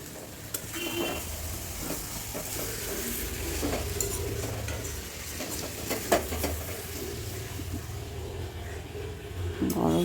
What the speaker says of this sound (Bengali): এখন কিন্তু মাংসটা ভালো করে কষাতে হবে